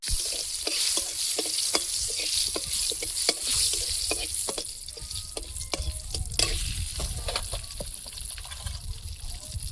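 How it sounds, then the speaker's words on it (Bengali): Dried red chillies crackle and sizzle in hot oil in a wok, close and lively, with sharp pops and spatters scattered over a steady frying hiss. "শুকনো লঙ্কা"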